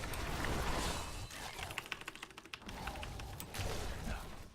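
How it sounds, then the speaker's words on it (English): Computer keyboard keys are hammered rapidly and furiously while playing Diablo 3, a dense clatter of clicks and taps heard up close, with no speech over it. "Hear you furiously hammering keys and your health going down."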